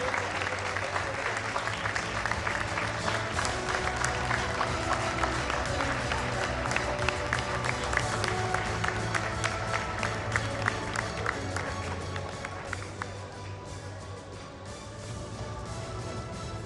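A conclave audience at the News 18 India Amrit Ratna Conclave 2023 claps warmly to welcome commerce minister Piyush Goyal, a sustained wash of applause with light cheering that gradually thins out toward the end.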